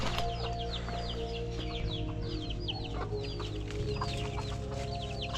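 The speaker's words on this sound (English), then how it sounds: "Chickens running around in the start of the trail here." Chickens clucking nearby at a trailhead on Oahu, Hawaii, a busy stream of short chirpy calls repeating throughout over a steady low background drone.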